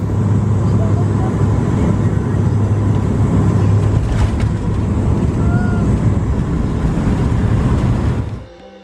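Croatian Airlines passenger jet touching down at Zagreb in the evening: a loud, steady broadband roar of engines and rushing air fills the cabin throughout, then drops away sharply near the end.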